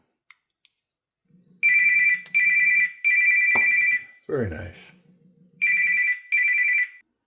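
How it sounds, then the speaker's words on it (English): A phone ringtone sounds in a workshop during a Kubey Eris KU179 knife disassembly. Loud, repeating electronic bursts play in pairs with short gaps, a low tone sits underneath, and a brief spoken remark comes just before the ringing. "I got a phone call"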